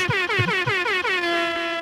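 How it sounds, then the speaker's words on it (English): A series of loud air horn blasts, several short honks followed by a long sustained blare with a descending pitch. "that's the 6 to 8 discrete air horns is just 7 air horns"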